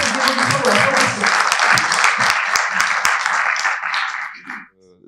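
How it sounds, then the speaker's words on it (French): An audience at a French professional presentation on training changes applauds loudly for several seconds with dense steady clapping close by, mixed with some voices, before fading out. "je vous demande d'applaudir"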